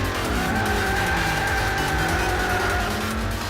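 A Plymouth Hemi Cuda in a racing game launches with heavy wheelspin, its tires squealing over a loud, droning engine that holds steady for the whole stretch.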